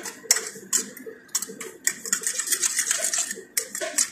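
A utensil briskly clinks and scrapes against a bowl while eggplant omelette (tortang talong) ingredients are mixed, in rapid uneven bursts of close, bright metallic taps.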